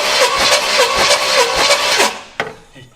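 An abandoned Pontiac engine that has sat for 48 years cranks over on the starter with its throttle held open, a loud rhythmic chugging that stops abruptly, followed by a brief clack.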